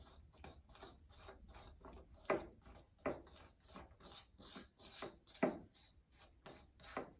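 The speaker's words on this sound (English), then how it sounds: "start stirring your iron oxide, your glitter, and your glue all together." A spoon stirs a thick mix of iron oxide, glitter and glue in a bowl, faint rhythmic scraping and rubbing strokes repeating about once per second at close range.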